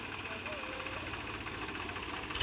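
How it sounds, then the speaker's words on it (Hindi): Two tractors working on a village road under construction, their engines chugging in a continuous mid-to-low drone with a rhythmic knock, close and steady, while someone talks over them. "ट्रैक्टर दो लगे हुए हैं और रास्ता बन रहा है"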